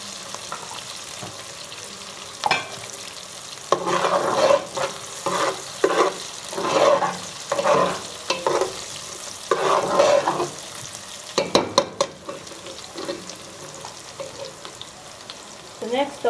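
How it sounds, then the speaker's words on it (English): Onions frying in a pot in a Lagos home kitchen, a steady sizzle broken by repeated scraping strokes of a spoon stirring, loud and close with no voices. "I'll let my onions fry into it and bring the taste out first before adding any other ingredients."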